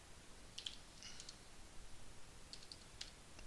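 A few keys tapped on a computer keyboard while entering a command in a MongoDB shell, sparse light clicks in two small bursts, faint over quiet room hiss with no talking.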